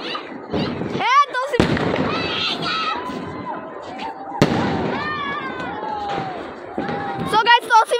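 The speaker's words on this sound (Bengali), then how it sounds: "এখন আতশবাজি ফুটাবে, দেখেন কি করে" Sharp bangs and crackling bursts of New Year fireworks go off repeatedly, some with rising whistles, while voices talk throughout.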